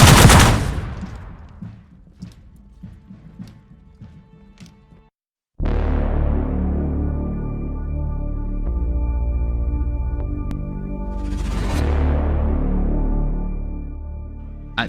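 Musket volley fire from a 1775 Revolutionary War battle at Bunker Hill: loud crackling gunshot bursts, then a sustained roaring barrage of massed firing with low rumble that swells again near the end.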